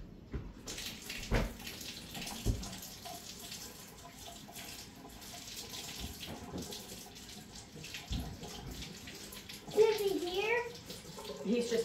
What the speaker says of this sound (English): He's just taking a quick shower.